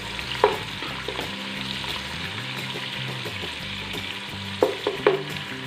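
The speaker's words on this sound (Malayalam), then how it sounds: "നമ്മൾ സവാള ഫ്രൈ ചെയ്തെടുത്ത എണ്ണയിൽ തന്നെ നമ്മൾ മസാലയ്ക്കുള്ള സവാളയും ചേർത്ത് കൊടുക്കാം" Onions frying in oil for a beef Zurbian biryani masala, a steady sizzle with background music and a few sharp utensil clinks near the start and the end.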